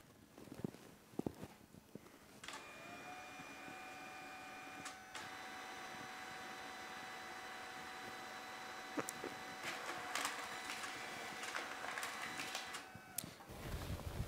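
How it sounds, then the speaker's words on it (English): An election official's ballot printer runs steadily, a continuous mechanical whir with a sustained tone for about ten seconds, after a few clicks and handling noises at the start, ending abruptly. "a ballot will automatically print from the ELO's printer"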